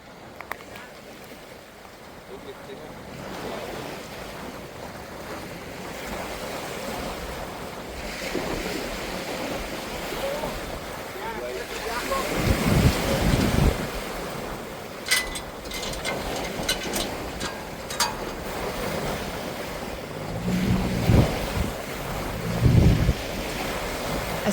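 A small boat at sea rides through waves and gusting wind, with continuous rushing water and heavy wind buffeting on the microphone, occasional louder splashes and knocks, and faint voices in the background.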